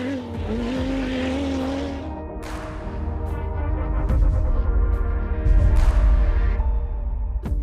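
A Dacia rally car built for the Dakar revs hard on a test track, its engine note rising and falling through gear changes with bursts of gravel and tire noise, loud and close throughout.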